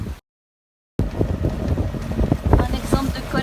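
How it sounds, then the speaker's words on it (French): Wind buffets the microphone aboard a sailboat off western Mindoro, a rough, steady rushing after a brief dropout, with a low rumble of water and hull beneath. "avec pas mal de vent"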